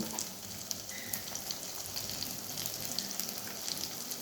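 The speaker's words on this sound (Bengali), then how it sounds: "দিয়ে এটাকে আমি মশলাটাকে ভালো করে একটু কষিয়ে নেব" Ground spices, garam masala, cumin and coriander powder, sizzle and crackle steadily in hot oil as they are fried for chicken biryani, a close, continuous hiss with small pops throughout and no talking.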